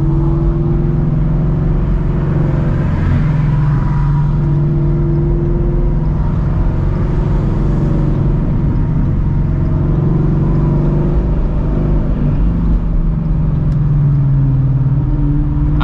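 Straight-piped Shelby GT350 drones from an exhaust-mounted mic while driving in Monday morning traffic, a steady, loud, rumbling exhaust note with mild swells of throttle and no talk.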